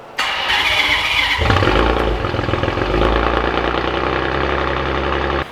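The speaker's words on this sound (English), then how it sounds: "This is a cold startup on a Ferrari 599 GTO." A Ferrari 599 GTO engine cranks and fires on a cold start into a loud, deep, rumbling idle that holds steady and close, with a sharp burst as it catches.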